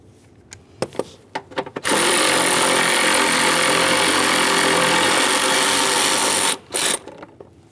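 Power tool loosening a 10mm bolt on a 1998-2011 Ford Ranger washer reservoir mount near the air filter box: a few clicks and knocks, then a loud continuous whirring burst of about five seconds, followed by a short final rattle.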